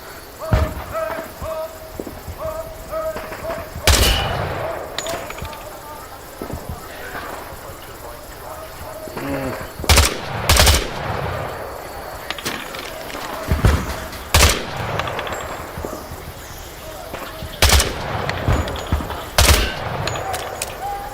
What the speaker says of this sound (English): Shoot the targets ahead, aiming for the helmet to guarantee an instant kill.